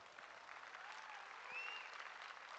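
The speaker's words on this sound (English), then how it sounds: "give Woody a big round of applause" Steady, dense applause from a crowd at a livestock show fills the arena after a show steer calf named Woody is presented in the ring, continuous and moderately loud with no talk over it.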